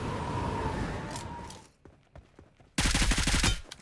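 Gunfire in PUBG Mobile: a burst of rapid automatic shots rings out loud and close, with a few sharper single reports in a quieter stretch just before it.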